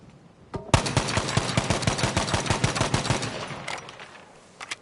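A rapid-fire weapon in Battlefield V, fired with a Strike Pack rapid-fire mod, lets off a fast, even burst of loud gunshots lasting about three seconds, then fades into a short tail with a few final shots.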